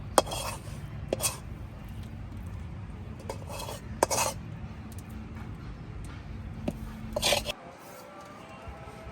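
A spoon scrapes and clinks against a pan while loitta dried-fish bhuna is scooped into a bowl: quiet, irregular metallic taps and rasping scrapes spread over several seconds.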